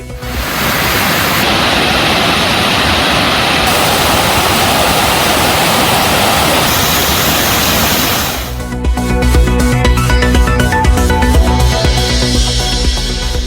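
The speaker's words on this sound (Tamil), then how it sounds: "தேனி மாவட்டம் கும்பக்கரை அருவியில் வெள்ளப்பெருக்கு." Kumbakkarai falls in Theni, in flood, pours with a loud, unbroken roaring rush for most of the stretch before music takes over.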